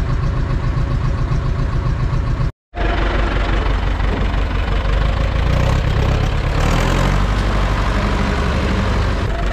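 An Ursus C4011 tractor engine idles after sitting through winter, a steady low diesel chugging with a rhythmic knock that cuts out for a moment, then resumes evenly and loud close by.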